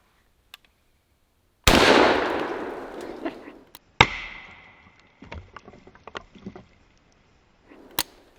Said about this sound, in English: let's go for the 2 liter on the right with the Palmetto Arms Company 12 gauge shotgun